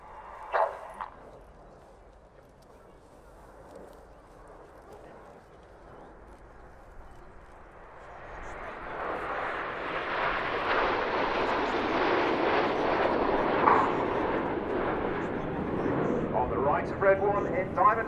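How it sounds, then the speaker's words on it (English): Red Arrows jets in a short diamond formation at an RIAT 2019 rolling display, a distant engine roar swelling from about eight seconds into a loud, broad rushing sound that lasts to the end. "Red One has moved the aircraft into short diamond formation."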